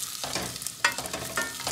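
Onions fry in a pan for mutton biryani, a close sizzle broken by sharp scraping bursts as they are stirred.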